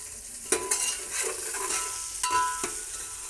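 Chicken curry sizzling in a pan while a spoon stirs it, with a few sharp scraping knocks against the metal over a steady frying hiss, close and without talk.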